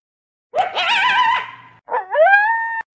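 A desert coyote howls twice nearby, a long rising and wavering wail followed by a shorter upward-sliding howl, with no other sound.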